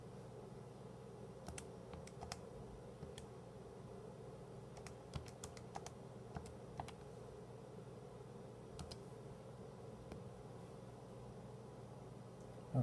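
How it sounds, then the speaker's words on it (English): Someone types on a computer keyboard in scattered, sparse bursts of soft key taps over a steady low hum of room noise, quiet and close, with no talking. "So let me get this typed in really quickly."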